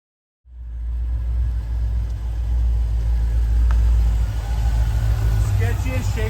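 An old hot rod engine starts up and settles into a loud, steady, deep rumbling run, close by and with no pauses.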